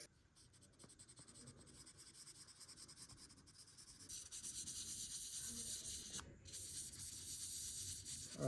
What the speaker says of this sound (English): All right, so now we're done with the wet sanding